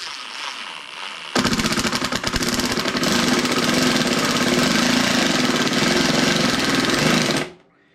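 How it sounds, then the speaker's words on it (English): A Ryobi impact driver hammers a 2-inch fine-thread PH2 drywall screw with a rapid, rattling clatter, loud and close, running about six seconds before stopping abruptly. "This is a PH2 2-inch fine thread typical drywall screw. I'm going to drive it in."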